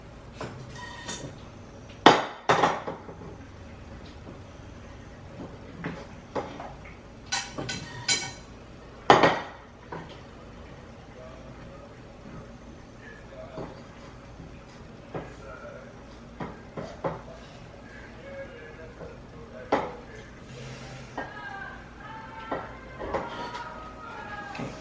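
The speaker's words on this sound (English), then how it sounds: "I'm going to rinse out the juices a little bit in this pan." A pan being rinsed of beef juices at a sink, with scattered clanks and knocks of metal cookware and utensils, some sharp and close, over a low running background.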